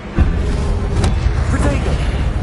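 The Incendio fire spell in Hogwarts Legacy gives a loud booming whoosh with a low thump, then a rumbling crackle that lingers under faint background noise.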